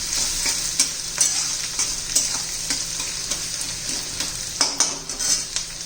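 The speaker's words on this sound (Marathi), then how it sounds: "आता कांदा घालून घेऊ कांदा छान परतून घ्यायचा आपल्याला" Onion sautéing in a pan with curry leaves, a constant close sizzle of hot oil broken by repeated clinks and scrapes of a metal spoon stirring against the pan, with no talking.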